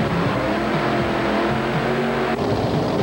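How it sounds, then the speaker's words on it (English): Loud, continuous engine roar from a multi-engine modified pulling tractor at a tractor pull, a dense, unbroken mechanical growl lasting a few seconds. "Multi-engine tractors are used in modified tractor pulling for tremendous horsepower."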